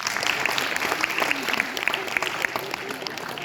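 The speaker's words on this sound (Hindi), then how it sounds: "जोरदार तालियों के साथ आप स्वागत कीजिए।" A large audience at a university poetry recital in Sagar, India claps steadily throughout, a dense patter of many hands, with a voice faintly audible underneath.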